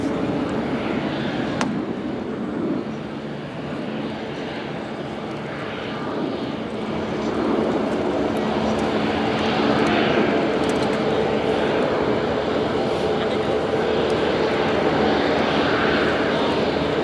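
An Airbus A350-900 XWB rolling out after landing as reverse thrust is stowed, a loud, continuous roar of jet engines, steady and broad, slowly winding through the rollout.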